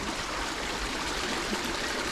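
A river stream flows steadily along a trail during a 16 km trail race, giving a continuous close rushing and trickling wash of water with no voices.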